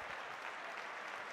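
Steady, dense applause from a Sicilian basketball crowd at the end of a game, a continuous wash of clapping filling the whole short moment.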